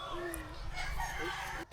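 A rooster crows from a moderate distance amid outdoor background noise, with faint voices and clucking nearby.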